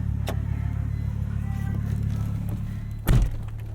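1996 Volvo 850 R with an IPD exhaust idling or cruising at a steady low drone, with a dull thunk near the end.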